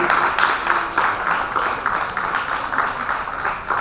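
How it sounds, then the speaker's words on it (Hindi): Audience at a national saints' gathering applauding to welcome a guest, dense steady clapping close and loud, continuing alone throughout. "तो जोरदार तालियों से उनका भी स्वागत करेंगे।"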